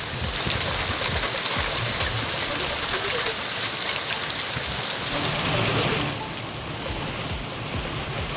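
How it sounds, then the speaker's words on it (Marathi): Heavy unseasonal rain falls with stormy wind, a dense, steady roar of downpour that eases slightly toward the end. "काही भागामध्ये वादळी वाऱ्यासह जोरदार अवकाळी पाऊस झाला"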